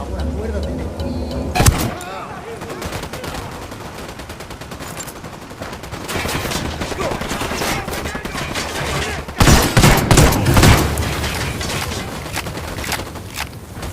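Gunfire in the shooter Ghost Recon Wildlands rattles in loud automatic bursts and fusillades, with a sharp blast near the start and heavier volleys later, over continuous game noise.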